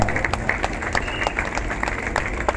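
An audience at a Christian gathering claps for a speaker in a dense, steady burst of applause that runs the full length without fading, with a faint murmur of crowd noise underneath.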